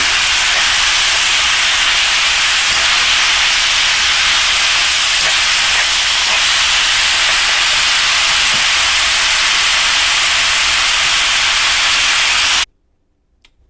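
Frozen vegetables and rice noodles stir-frying in an electric wok give a loud, dense, continuous sizzling hiss that holds steady and then cuts off abruptly near the end.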